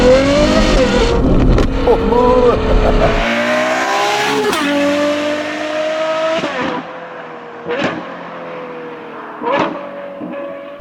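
A Ferrari 812 GTS V12 with a Novitec exhaust revs and pulls hard, pitch climbing through gears, loud and close with brief sharp gear-change blips.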